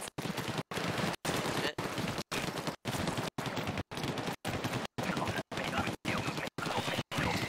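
Splattershot weapon in Splatoon firing as a steady run of loud, evenly spaced bursts with short silent gaps between them, close and continuous for the whole stretch.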